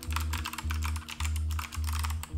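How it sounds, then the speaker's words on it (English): Typing on a Viper V765 mechanical keyboard with Cherry MX Blue switches: a rapid, steady stream of crisp, clicky keystrokes, close and continuous, with a low mechanical hum underneath. "this is a wonderful typing keyboard"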